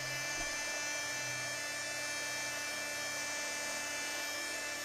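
A small hot air tool drying watercolor paint blows with a steady high-pitched whine and airy rush, constant and close throughout.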